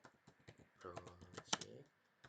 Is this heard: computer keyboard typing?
yes